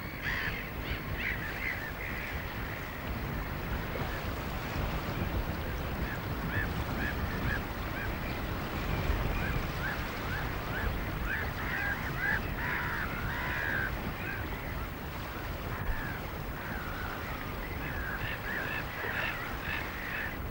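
A large breeding colony of black-headed gulls on coastal sand dunes at a nature reserve in Britain, a continuous chorus of harsh overlapping squawks and calls, busy and layered with near and distant birds.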